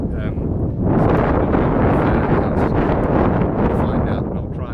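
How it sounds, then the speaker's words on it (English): Strong wind buffets the microphone in a constant low roar, steady and close, with brief gusts swelling over the rumble. "It's quite windy."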